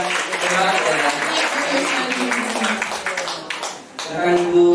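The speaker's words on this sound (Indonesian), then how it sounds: "Sekali lagi beri tepuk tangan yang meriah untuk teman-teman kita yang udah hebat ya." A school audience at SMAN 68 Jakarta claps steadily for a few seconds, a broad, close wash of applause that dips briefly near the end as a voice comes over the top.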